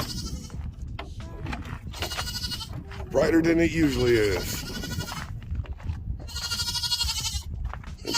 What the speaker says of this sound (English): Put these goats away.